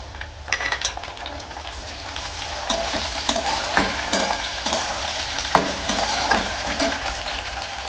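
Chopped tomato goes into onion already frying in a pan for a spicy chicken curry, a steady close sizzle with repeated scraping stirs and light clinks of the spatula against the pan.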